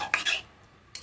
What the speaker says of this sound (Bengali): দিয়ে একটু ভালো করে নেড়ে দেবো।